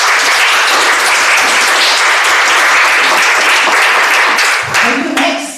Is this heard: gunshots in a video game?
no